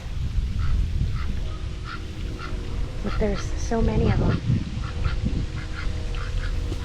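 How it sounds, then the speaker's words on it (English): Ducks and geese at the pond in Cave Hill Cemetery, Louisville, Kentucky, give scattered quacks and a brief burst of honking calls, mixed with outdoor background noise while people talk nearby. "Ducks and geese."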